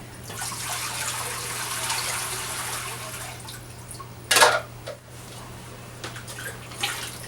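Water running into a 10 gallon fish tank makes a steady, soft rushing hiss with a low hum underneath, broken midway by a brief louder splash and a few faint drips.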